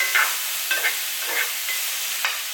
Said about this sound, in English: We're going to cook it over high heat until it starts to turn brown and caramelizes just a little bit